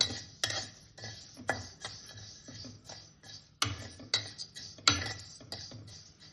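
Whole spices for mirchi avakaya dry roasting in a pan, with repeated scraping and stirring clinks of a spoon against the metal, irregular and close, no talk.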